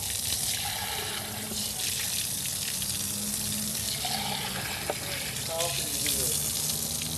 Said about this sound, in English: To clean that out, we're going to rinse out the bowl.